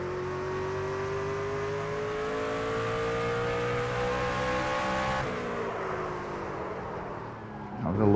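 Craftsman Truck racing at Martinsville in the NASCAR 25 video game, a sustained engine drone holding revs, then lifting off as the pitch drops into a corner before revving hard again near the end.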